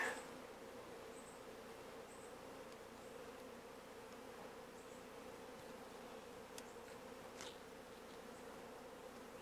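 Honeybee swarm fanning at the edge of a box outdoors, a soft continuous buzzing hum with a few individual bees passing close, faint and steady throughout.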